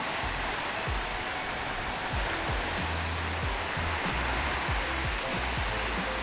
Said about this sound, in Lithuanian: vandenynas.